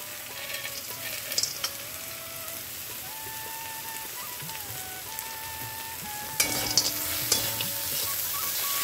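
Pea greens are stirred and fried in a pan, producing a steady gentle sizzle and crackle with occasional scraping strokes, close by, and a brief louder burst of frying near the end.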